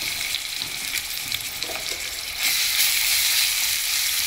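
Ginger garlic paste fries in a pan with a soft, close sizzle that swells noticeably louder about halfway through and then holds steady.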